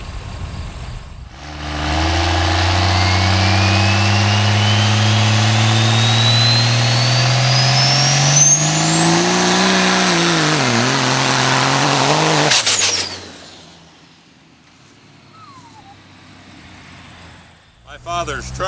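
A loud monster truck engine revs up and climbs steadily in pitch for about ten seconds, then cuts off abruptly, leaving a quieter idle and faint background noise.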